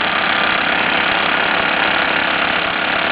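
Mamod ME2 and ME3 toy marine steam engines run side by side, with the ME2 the noisier of the pair. A loud, steady, close-up mechanical chuffing and whirring holds without a break.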